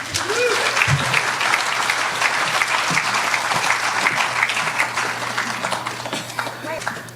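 A live audience at a western music and cowboy poetry event in Medicine Hat claps and cheers steadily and loudly for the full stretch, a dense continuous wash of applause close by.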